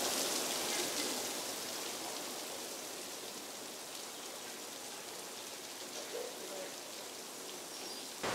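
Steady rain pours down, a dense even hiss of drops on surfaces that holds from start to finish, close and unbroken, with no speech over it.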